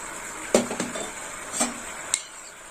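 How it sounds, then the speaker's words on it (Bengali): A spoon scrapes and clinks in a metal bowl while ground coriander, cumin, chilli and turmeric are stirred with water into a paste, giving a few sharp taps over a soft wet swish, close up and quiet. "এবার একটু জল দিয়ে মশলাটা গুলে নেব"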